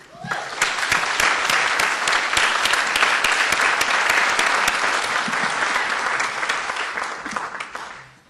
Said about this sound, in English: I would like for all of you to give a strong applause for the faculty at Marshall University.